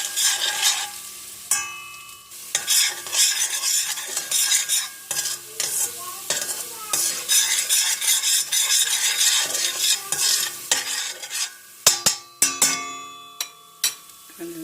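Tomato paste sautéed in a pan and stirred briskly, giving dense, continuous scraping and sizzling with bursts of spoon-on-pan clinks, close and loud, ending in a few scattered knocks.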